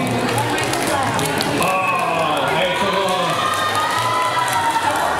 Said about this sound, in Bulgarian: Силни аплодисменти, да му пожелаем да стане шампион